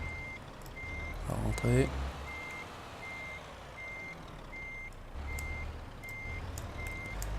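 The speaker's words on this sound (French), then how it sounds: "Il fait un bon bruit, je trouve, ce camion-là." Reversing beeper of a truck in Euro Truck Simulator 2, a steady series of evenly spaced electronic beeps over a low diesel engine rumble, with a brief hiss partway through and someone speaking French.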